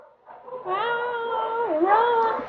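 A cat gives one long, drawn-out meow that rises, dips and swells again near the end, close and clear against a quiet background.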